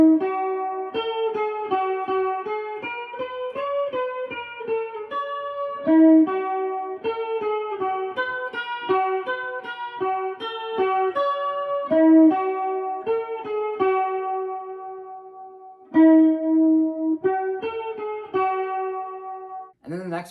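A guitar plays the full part, a clean, close melodic line of quick plucked notes with occasional sustained tones, steady for about twenty seconds.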